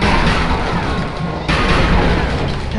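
Gunfire aimed at a tank in the video game Psychonauts, heard as a loud, continuous crashing blast with one sharp break midway, then dense booming that carries on to the end.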